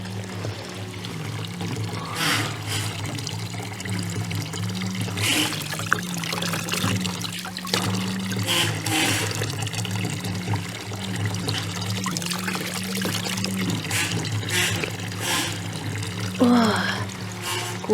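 Water from a spring in a remote northern forest setting trickles and pours steadily and close by, a continuous liquid splash throughout with brief faint sounds on top.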